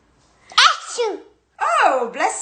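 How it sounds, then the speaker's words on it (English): A child sneezes twice in a row, each a sharp, loud, voiced burst close to the microphone, separated by a brief pause. "Are you sneezing?"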